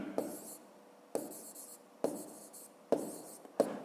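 Pen writing a math solution on paper, five short scratchy strokes close up, each starting with a tap and fading, spaced roughly a second apart in a quiet room.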